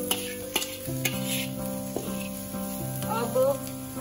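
A spoon stirs Schezwan masala and salt into sauces in a pan, making soft scrapes and clicks over a low, continuous sizzle, with a few sharper knocks against the pan.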